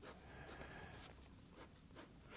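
A pencil scratches faintly across paper while a cube is drawn, soft quick strokes in short bursts over a quiet background.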